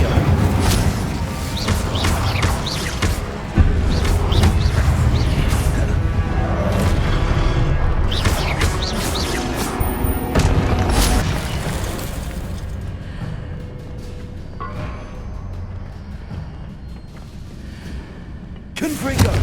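Incendio fire spell being cast in Hogwarts Legacy amid continuous dense combat noise, with loud bursts, crackling blasts and shattering hits layered over a sustained rumble, tapering slightly toward the end.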